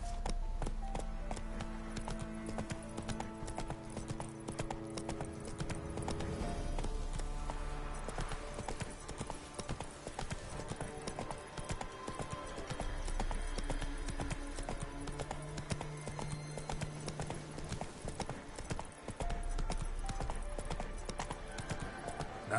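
Roach, the horse in The Witcher 3, gallops with brisk, continuous hoofbeats that clip-clop steadily beneath sustained game music.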